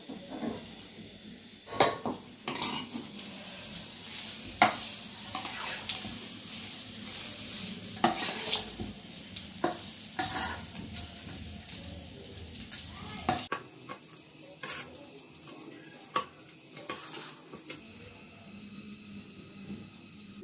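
Turmeric-laced tempering for mango dal sizzles in a pan as it is stirred, with sharp utensil scrapes and clinks over a faint fry, close and uneven, the sizzle easing in the final seconds.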